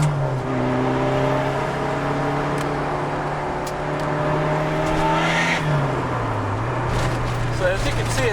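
A Nissan SX180 engine drones loudly through a dual-tip exhaust and climbs in pitch as it revs, then drops back down; a voice speaks faintly underneath.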